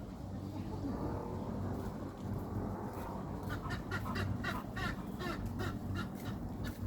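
Chickens cluck in quick bursts at a market over a low background rumble and murmuring voices, the clucking growing busier in the second half.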